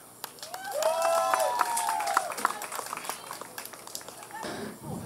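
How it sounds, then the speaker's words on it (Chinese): Audience applause at a 2015 songwriting camp showcase on Taiwan's east coast in Hualien: a crackle of clapping across the room, with a high rising-and-falling whistle or cheer riding over it before fading near the end. "掌声鼓励"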